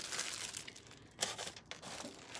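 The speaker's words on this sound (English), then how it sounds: "I just put them in the plastic bag." Homemade CBD-oil bath bombs are packed into a plastic bag, which gives quiet, close crinkling and rustling in short bursts with no talk.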